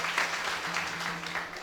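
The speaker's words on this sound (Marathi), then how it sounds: "साहेबांसाठी टाळ्या वाजवा म्हणून तुम्हाला एक सांगितलं." Seated listeners at a Varkari kirtan gathering clap briefly and softly for an honoured MLA, a faint, even patter of hands with no clear voices on top.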